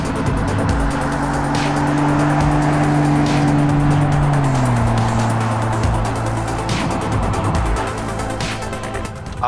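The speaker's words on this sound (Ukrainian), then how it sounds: "А послухайте, як співає ця рядна шістка. Першокласне звучання справжньої М-ки." The inline-six engine of a BMW X4 M40i hums steadily while driving, a smooth tonal drone that drops in pitch as it shifts, with road and tire noise underneath, close and continuous.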